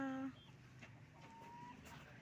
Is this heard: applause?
no